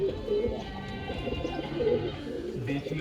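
Pigeons cooing close by, soft throaty murmurs overlapping in a steady low chorus with faint chirps behind.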